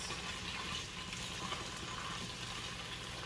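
Halved and quartered potatoes searing in a pan over medium-high heat, giving a steady, dense sizzle and crackle that holds at an even level throughout, with no voices.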